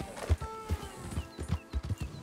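Steady clip-clop of horse hooves as a rider crosses open countryside in Red Dead Redemption 2, soft, rhythmic and close, with a faint voice.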